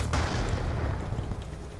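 Gunfire in the Black Ops 2 video game opens with a sharp close shot that fades into rumbling battle noise, loud and alone without speech.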